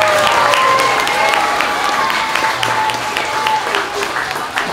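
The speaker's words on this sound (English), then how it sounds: "Let's give these wonderful students a round of applause." Applause from a school assembly audience honouring third- to fifth-grade students at a quarter four awards ceremony, steady dense clapping with some cheering and crowd noise, held loud throughout.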